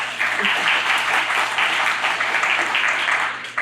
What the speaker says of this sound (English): so just a real quick round of applause